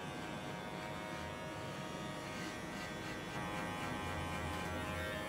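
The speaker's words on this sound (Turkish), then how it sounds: "Direkt makineyi en dipten sürterek şuraları da böyle izleri kaybederek geliyorum yukarı doğru." An electric hair clipper buzzes steadily and close while cutting a skin fade, a continuous whirring drone with slight shifts as it sweeps upward through the hair, with no talk.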